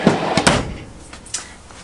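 A deep drawer in a 2018 Chateau 24F RV slides and knocks shut, giving a few sharp close thumps and clicks over about two seconds.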